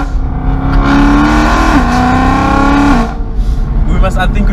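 A loud, straight-piped BMW E93 M3 V8 engine drones and revs close by, its pitch climbing and dipping as it accelerates and downshifts, with voices heard over it.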